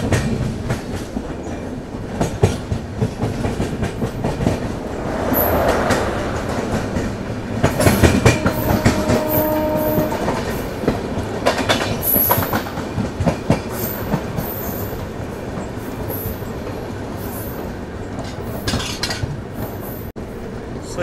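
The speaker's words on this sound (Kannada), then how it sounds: "ಸೊ ಇದು ನಮ್ಮ ಟ್ರೈನು ಕೃಷ್ಣರಾಜಪುರಂ ರೈಲ್ವೆ ಸ್ಟೇಷನ್ಗೆ ಅಪ್ರೋಚ್ ಹೊಡೆದಿದೆ." A Bengaluru to Chennai double decker train runs on the tracks as it approaches Krishnarajapuram station, giving a steady, close rumble with rhythmic clickety-clack of wheels over rail joints and faint rattling throughout, with no talk.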